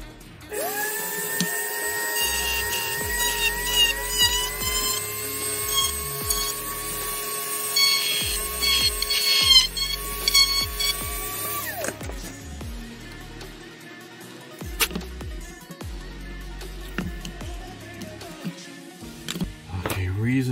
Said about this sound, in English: Now I'm going to drill it on a pretty steep angle.